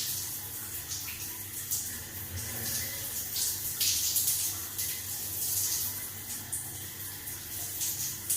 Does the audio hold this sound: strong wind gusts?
no